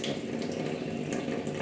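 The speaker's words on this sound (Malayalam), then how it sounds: "ഇതാണ് വെള്ളം വരുന്നത് കേട്ടോ." Weak trickle from a blocked kitchen tap, a thin steady splashing into the sink that runs unbroken and fairly faint at close range.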